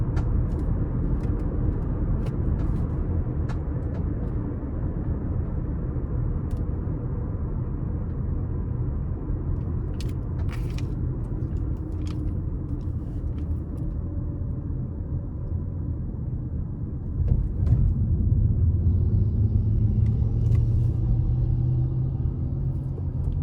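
A 2019 Toyota RAV4 Hybrid LE AWD accelerates in sport mode onto an interstate, heard from inside as a steady low rumble of engine and road noise that swells slightly as the pull builds.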